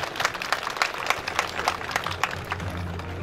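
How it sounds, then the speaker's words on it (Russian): Graduates and guests at a university graduation ceremony applaud, a dense, lively clapping with distinct claps standing out, a low hum entering near the end. "аплодисменты!"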